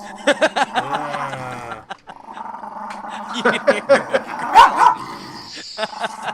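A pet dog growls and barks in bursts, near and loud, with a rapid string of vocal yips early on and more growling barks later, while people talk and laugh around it.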